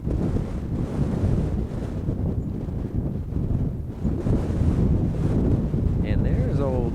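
Steady wind gusting and buffeting the microphone for several seconds at a high school baseball game, a low roaring rush with a brief faint whistle near the end.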